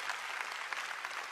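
A church congregation clapping for the Lord in a dense, even burst of applause heard from within the hall, steady for the whole moment with no voices.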